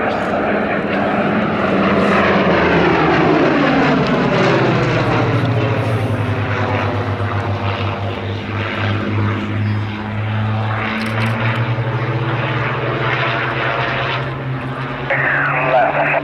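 Two American propeller aircraft roar past in an airshow flying display at Sywell, a loud, sweeping piston-engine drone that swells and shifts in pitch as they pass.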